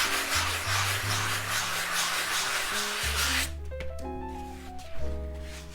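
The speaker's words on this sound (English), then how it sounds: "I use a little bit less coarse sanding" Steady, scratchy rubbing of a sanding sponge over an old canvas for a few seconds, with background music playing throughout.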